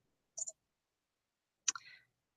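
Two crisp computer mouse clicks sound about a second apart, close and quiet against near silence.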